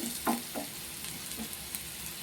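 Poha ingredients frying in a pan with a little salt, giving a soft, steady sizzle with a few light stirring scrapes, close and fairly quiet, with no talking.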